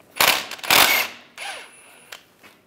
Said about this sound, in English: we're gonna use a triple square socket. This is a M10 socket, and take these bolts out for the axle